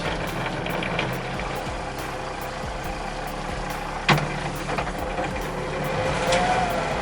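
A sailboat's inboard engine runs steadily in forward gear, a continuous low rumble and drone with a broadband mechanical hum, holding fairly even loudness apart from one brief knock partway through.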